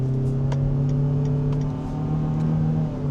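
A 2026 Mitsubishi Destinator accelerates on a banked test track in tarmac mode, its engine producing a loud, steady drone with a sustained low hum, heard from inside the cabin with no talking.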